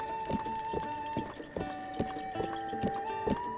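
Steady rhythmic hoofbeats of a horse galloping in the video game Breath of the Wild, clip-clopping over a constant electronic hum and background music.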